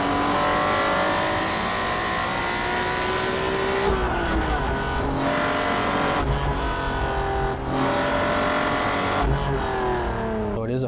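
A JDM Honda Legend with a naturally aspirated engine and a 5-speed gearbox accelerates hard, its engine note climbing through long gears with brief dips at each shift, loud and close throughout.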